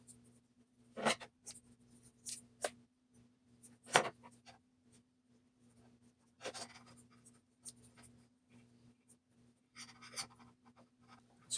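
Tape pulled and pressed onto a high-voltage EMP circuit build, producing scattered short crackling rips and rustles between quiet gaps over a faint steady electrical hum.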